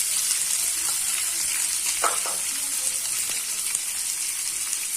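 Chopped onion fries in a pan, a steady close sizzle with a few sharp utensil clinks and scrapes from stirring partway through, moderately loud, no speech.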